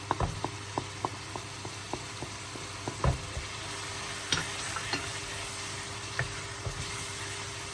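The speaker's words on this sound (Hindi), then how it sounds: "उसके अंदर हम इस मसाले को भूनेंगे" Masala frying and being stirred in a pan with a little water, quiet sizzling under a series of sharp scraping and tapping strokes of the spoon at an uneven rhythm, close by.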